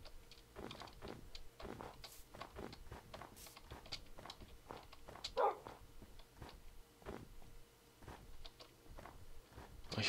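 Video game dogs let out quiet, intermittent barks over soft rhythmic footsteps, with a single sharper yelp standing out midway through the low, steady background.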